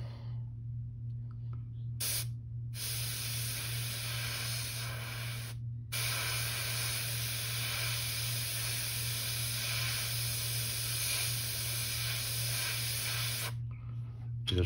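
Airbrush spray painting a custom trout glide fishing bait, a steady close hiss running almost continuously, broken by a few short pauses near the start, around six seconds and at the end, with a low hum underneath.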